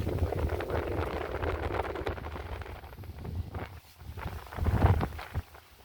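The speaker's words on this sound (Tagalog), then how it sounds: "Lakas ng hangin." Gusty wind after a typhoon buffets the microphone in uneven rumbling surges among mulberry plants, rising and falling, loudest near the end.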